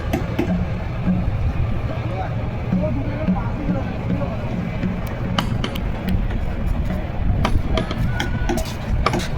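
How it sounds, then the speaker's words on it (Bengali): Two passenger launches cruise side by side on a river, their engines giving a steady low rumble under wind and water noise, with occasional knocks and clatter. "দুখানা লঞ্চ কিন্তু পাশাপাশি যাচ্ছে"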